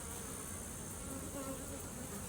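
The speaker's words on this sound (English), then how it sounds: "These bees are crawling around on this cage." A steady, dense buzzing of many honeybees crawling on a queen cage in a mating nuc, close by, continuous and even throughout with no voices.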